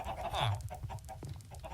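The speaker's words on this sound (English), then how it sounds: "This is for chickens." Chickens cluck quietly in a Minecraft pen, a few short, soft clucks and squawks at a low level, with a voice faintly present.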